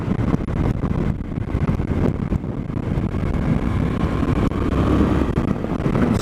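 A 2024 Suzuki DL-800 V-Strom motorcycle cruises during a break-in ride, with a steady roar of wind buffeting over a low engine drone. The sound is continuous and loud throughout, with no talking.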